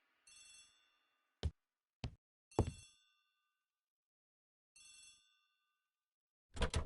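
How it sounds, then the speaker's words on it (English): A telephone bell rings in a hallway in a video game, The ABC Murders, in short bursts separated by silence, interrupted by a few sharp, loud knocks or clicks. "The telephone in the hall is ringing."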